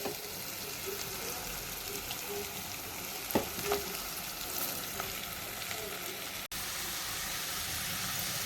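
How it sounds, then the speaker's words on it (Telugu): Goat tripe fries in hot oil for a gongura curry, giving a steady close sizzle with a few stirring scrapes and brief clinks around the middle, then a short cut before the frying noise resumes. "బోటి వేసుకొని పచ్చి వాసన పోయే వరకు నూనెలా ఫ్రై చేసుకోవాలి."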